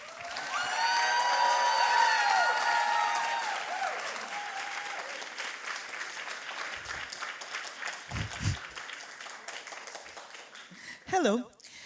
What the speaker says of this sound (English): Big applause for Katarina Krivokuća.